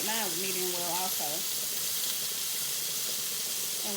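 Steaks fry in a frying pan with a loud, constant sizzle and hiss, while a voice comes and goes over it at the start and end.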